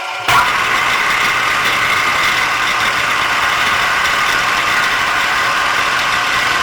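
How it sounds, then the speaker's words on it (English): A Hobart VCM-40 cutter mixer runs at high speed with a steady, loud mechanical whir and hiss. The sound starts abruptly and then holds constant, close up, with no talking. "It does travel so fast you really can't see the blade when it's moving"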